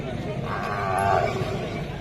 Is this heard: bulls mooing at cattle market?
yes